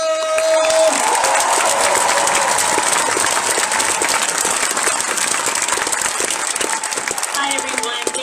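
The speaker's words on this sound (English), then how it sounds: "give a round of applause for Christina!" An audience at a Denver protest rally applauds steadily for about eight seconds, loud dense clapping with some cheering mixed in.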